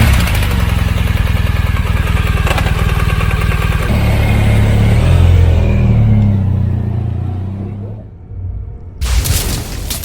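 An adventure motorcycle on soft sand, one of a Honda Africa Twin, KTM 790R or Yamaha T7, rumbles loudly up close, its engine note shifting and fading before a sudden loud burst returns.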